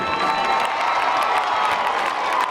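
A school spirit event crowd applauds and cheers for the Bobcat Band, dense clapping mixed with high whoops and shouts, loud and sustained throughout.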